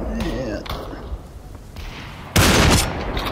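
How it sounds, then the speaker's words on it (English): Video game gunfire heard as muffled distant pops and thuds, then a loud close burst of shots near the end, with a player talking over it. "they're shooting at me"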